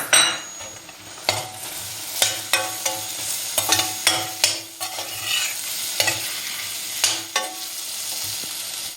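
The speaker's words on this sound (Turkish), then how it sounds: "Bir de tekrar böyle kavuracağız." Ingredients sautéed with onions in a pan for lentil soup, a continuous sizzle broken by rhythmic scraping stirs roughly every half second to second, close and clear with no talking.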